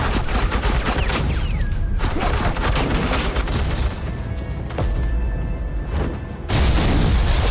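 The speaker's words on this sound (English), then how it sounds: "Suppressing fire." Sustained suppressing gunfire in a Telltale Batman game scene, a dense, loud barrage of overlapping shots and booms running nearly unbroken, briefly dipping before a heavy burst at the end.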